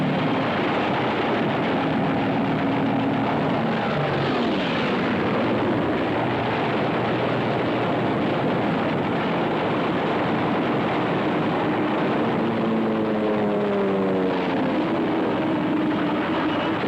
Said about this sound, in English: Japanese torpedo bombers.